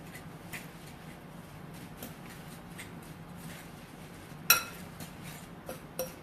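Granola cup ingredients with salt being mixed in a bowl, soft scraping and stirring with a utensil, quiet and close, with a louder clink against the bowl near the end and a couple of lighter taps.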